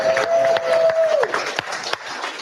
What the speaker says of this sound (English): that's a good little almost springtime cheer